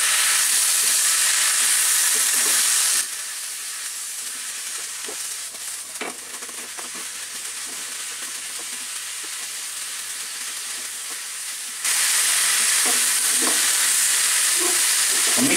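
Chicken and vegetables stir-frying in a pan, a steady loud sizzle that drops to a softer hiss with occasional stirring clatter in the middle, then returns to full sizzle.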